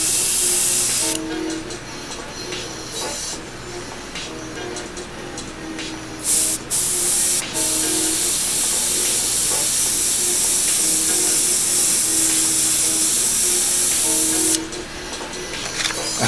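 An airbrush sprays paint past a handheld shield while painting a portrait of Saquon Barkley, giving a close, steady hiss that briefly stops and restarts a few times.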